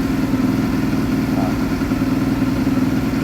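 Motorcycle fitted with a GP oneCrabon carbon exhaust holds steady at about 2,000 RPM, a close, continuous low throbbing drone without breaks, and no voices over it.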